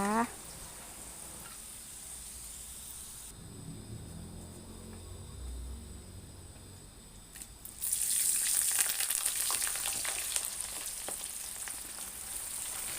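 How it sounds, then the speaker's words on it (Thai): Crispy jackfruit frying in hot oil, a steady close sizzle that quiets midway, then bursts into loud, dense bubbling crackle as a fresh batch goes in. "แล้วเราก็จะมาทอดส่วนที่เหลือนะคะ"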